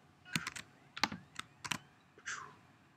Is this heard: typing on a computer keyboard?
yes